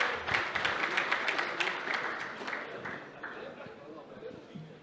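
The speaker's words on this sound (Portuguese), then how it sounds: "a quem eu peço uma salva de palmas, Clausens Duarte." Applause for a vice-president at a housing conference, a burst of crowd clapping that starts strong and gradually thins and fades, with murmured voices underneath.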